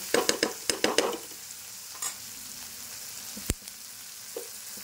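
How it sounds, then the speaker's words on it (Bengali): Onions frying in a pan over a low-to-medium flame while being stirred, with a run of scraping stirs at the start, a sharp knock at about 3.5 seconds, then a soft steady sizzle. "এইবারে আমি পেঁয়াজটা যেহেতু ভাজতে দেব"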